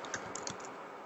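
Rapid keystrokes on a computer keyboard while an FTP address is entered into the Windows Explorer address bar, a short burst of light clicks at close range with no talking.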